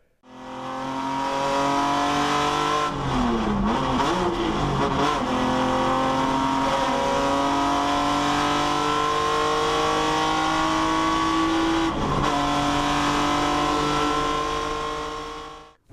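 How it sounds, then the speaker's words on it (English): A Datsun ZG race car laps the Fuji circuit, its engine loud and close with steady harmonic drone, brief gear-change dips around a few seconds in and again near twelve, the note rising and falling as it accelerates. "I have managed to find a clip of the ZG 2 or 3 years ago of one ZG going around the Fuji circuit"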